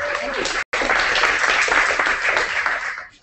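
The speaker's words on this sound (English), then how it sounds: "Big round of applause, everybody." Audience at a social media meetup applauding, a dense burst of clapping that swells, cuts out briefly and then fades away at the end.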